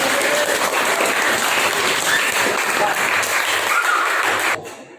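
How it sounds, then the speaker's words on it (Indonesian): Steady, dense applause from a ninth-grade religious studies class fills the room, loud and continuous with a few voices mixed in, then cuts off abruptly near the end. "Tepuk tangan buat Alis"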